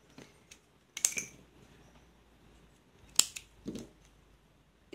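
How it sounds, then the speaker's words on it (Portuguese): Scissors snip through brown yarn at the end of a crochet chain, making a few short, crisp cuts close by with quiet pauses between them. "Vamos fazer uma correntinha e vamos cortar o fio marrom."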